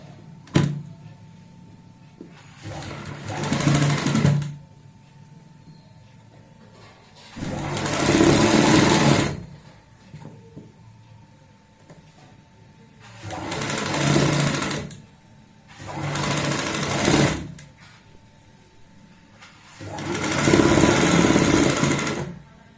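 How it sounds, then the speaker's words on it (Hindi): A sewing machine top-stitches the folded-in seam margin on a kurta collar, running in five separate bursts of steady whirring of a few seconds each, with quiet pauses between them. "अब ये जो मार्जिन होता है ये हम इस तरीके से डालेंगे अंदर की साइड और ऊपर से लगाएंगे यहाँ पे सिलाई।"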